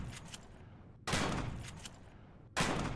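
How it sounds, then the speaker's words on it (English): A shotgun in the game Empyrion Galactic Survival blasts at a teleporter: two loud, sharp shots about a second and a half apart, each with a trailing rumble, after a quieter stretch of crackling. "Shotgun might not be the fastest way to do this, but it is what I equipped for the moment"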